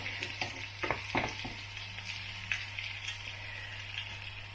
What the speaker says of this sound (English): I want to cook the liver, just brown it both sides